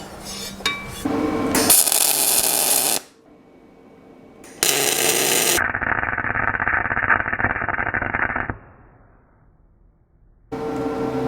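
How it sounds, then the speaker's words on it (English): Steel brackets are welded onto an FMTV military truck during hoist installation, with several sustained, harsh crackling bursts broken by short pauses. "I was over here welding by feel just going along, and I started going off my line."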